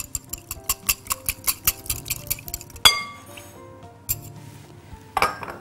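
Three eggs cracked into a mixing bowl for an English sausage pie batter: a run of quick glassy clinks and taps against the bowl, then a few louder knocks and drops, close by with no talk.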